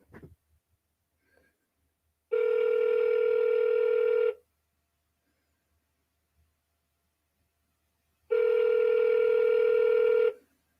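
Ringback tone of an outgoing telephone call: two steady, evenly spaced rings, each lasting about two seconds with a long silent gap between, clear and alone with no talking.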